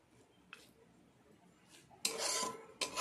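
Semai vermicelli being stirred in a pan with a utensil for Eid sweets, two short loud scraping rasps after quiet low background, the first sustained, the second brief.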